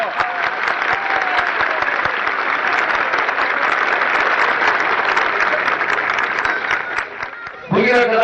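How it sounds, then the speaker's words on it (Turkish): A large crowd applauds steadily for several seconds at the opening ceremony of a village friendship football tournament in 1988, the dense clapping cutting off abruptly before a voice speaks. "alkışlarımızla bütün takımlara, futbol takımlarına başarılar diliyoruz"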